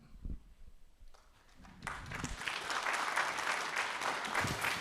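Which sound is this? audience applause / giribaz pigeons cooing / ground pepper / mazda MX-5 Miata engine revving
audience applause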